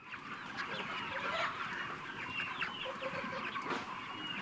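Free-range chickens on a South African poultry farm cluck and chatter steadily throughout, many birds overlapping in a dense, close flock sound with no talking.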